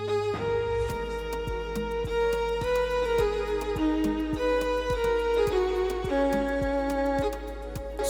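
A violin intro melody programmed in FL Studio, recreating the opening of a song, plays sustained bowed-string lines in stepwise phrases over a deep bass and a regular, evenly spaced beat.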